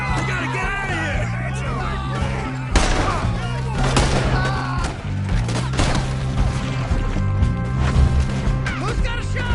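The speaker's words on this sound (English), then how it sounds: "There he is! Shoot that man!" Chaotic Red Dead Redemption 2 shootout with sharp gunshots and crashing, splintering impacts, loud and continuous, mixed with shouting voices and game sound throughout.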